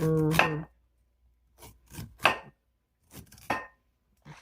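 A knife slices kernels off corn cobs in a home kitchen, making a few separate scraping, rasping strokes, close and crisp with quiet pauses between them.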